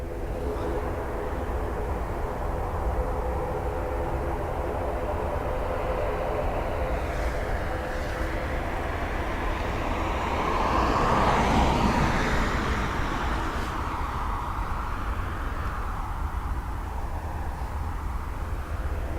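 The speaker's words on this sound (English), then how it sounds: "You can hear in the background another ATR powered up." ATR turboprop aircraft powering up at Dublin Airport, a distant engine roar swelling to a peak midway then easing, heard amid airport background noise.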